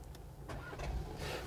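A Skoda Kodiaq SUV started by push button from inside the cabin: a few short clicks and mechanical whirs, then a low engine rumble as the motor catches, close and moderately loud.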